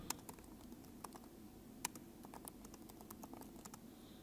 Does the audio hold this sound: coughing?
no